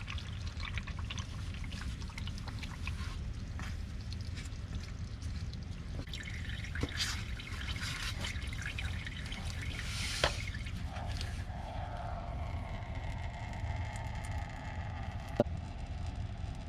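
CVT transmission oil from a 2014-2020 Nissan Rogue draining into a pan, a steady pouring trickle that runs continuously at moderate level with a few small drips and clinks near the end, no talk.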